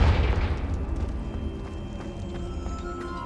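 A single heavy blast of the Confringo fire spell in Hogwarts Legacy, a loud booming burst at the start that rumbles and fades into a lingering crackling tail.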